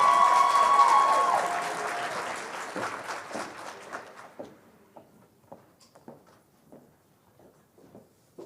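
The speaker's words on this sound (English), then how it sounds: "please give a round of applause for the Black Awakening Choir" A ceremony audience gives applause for the Black Awakening Choir. Loud, dense clapping at the start, with a few whoops, thins out to scattered individual claps that taper away.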